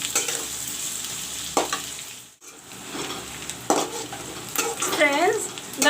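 Onions fry in hot oil with whole spices and bay leaves for a chicken dish, giving a steady close sizzle. Stirring strokes and scrapes in the pan come through in a few bursts, with one brief pause, and there is no speech.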